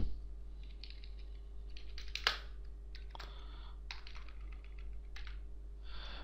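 Quick bursts of typing on a computer keyboard, soft clicks coming in short clusters with pauses between them, close and fairly quiet.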